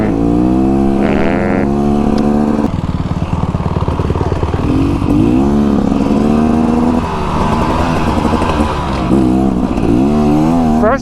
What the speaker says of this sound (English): like it revs out of first gear pretty fast